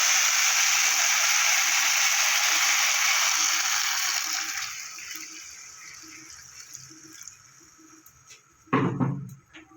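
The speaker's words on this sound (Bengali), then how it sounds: "এবার আমি জল দিয়ে দেবো।" Water poured into a pot of spice-fried potatoes for rohu fish curry, a steady loud rushing pour that tapers off over several seconds, followed by a brief clatter of a vessel near the end.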